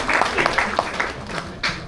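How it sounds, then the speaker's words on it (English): Audience at a mining club luncheon clapping briefly, a loose patter of hands with a speaker's voice over it. "An applause for that very personal and"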